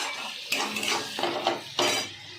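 A metal spatula presses and scrapes tomatoes cooking down in a pan for a pomfret curry, giving several close, sizzling clatters and scrapes in an uneven rhythm.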